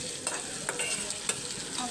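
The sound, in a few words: frying in oil in a wok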